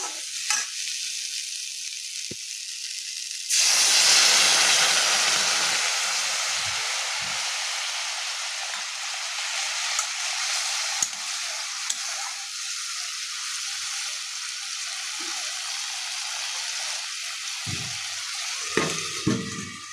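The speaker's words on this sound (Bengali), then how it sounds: "এবার আমি সামান্য জল দিয়ে আমি সবজিটাকে ঢেকে দেবো।" Winter vegetables with spinach and lentil dumplings, seasoned with salt and turmeric, hit with a little water in the pan: a sudden loud sizzling hiss bursts up, then gradually settles into a softer, steady simmering crackle with occasional faint clinks.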